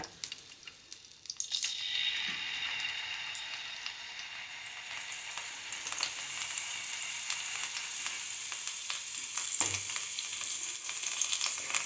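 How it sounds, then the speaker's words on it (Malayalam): Yam slices frying in hot ghee with a steady, bright sizzle that swells after a quiet first second, with a faint clink near the end. "നെയ്യിൽ വറുത്തെടുക്കുന്ന ചേന"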